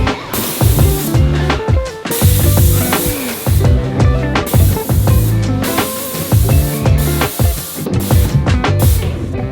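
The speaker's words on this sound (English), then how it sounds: "I made sure my paint sprayer was ready to go, and then I started spraying on the first coat." A paint sprayer hisses in repeated bursts while spraying a first coat of paint on bookshelves, each spray lasting about a second with short pauses between, loud and close throughout.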